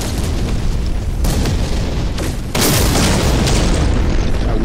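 Weapon fire and explosions fill a fight against sentinels in No Man's Sky, a loud, continuous roar of blasts that builds to a heavier barrage partway through, with no talk.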